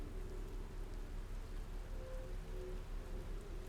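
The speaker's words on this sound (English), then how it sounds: "It's snowing. Or not snowing, raining." Steady rainfall in the video game Outer Wilds, a constant soft hiss of drops with a faint low tone drifting underneath, with no speech.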